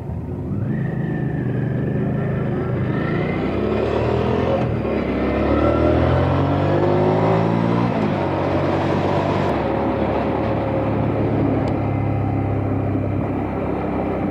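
Loud engines of two motorcycles and a Holden Commodore Thunder rev and accelerate, rising in pitch as they speed up and pass close by, with a steady roar throughout.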